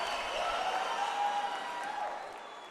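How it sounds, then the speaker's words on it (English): A crowd screams and cheers at a live rock concert in Teatro Metropolitan, Mexico City, as a sustained, loud wash of distant voices that fades slightly at the end. "Awesome screams from the crowd"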